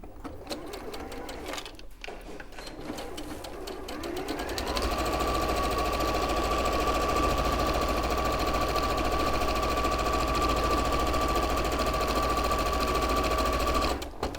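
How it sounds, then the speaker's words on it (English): Sewing machine stitching down the sides of a bag, starting with a few short uneven bursts, then settling into a fast, steady, loud mechanical whir that runs unbroken for about ten seconds. "And then you're literally just going to sew down your sides."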